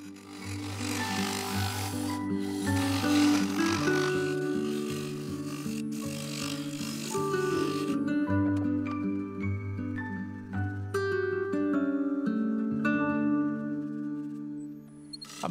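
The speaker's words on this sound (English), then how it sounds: "For the last few passes, I used the full-size carbide to smooth the inner surface and remove any ridges." A full-size carbide turning tool smooths the inside of a yew hollow form spinning on a lathe. Steady rasping scrapes dominate at first, then give way to the lathe's humming tones with lighter scraping.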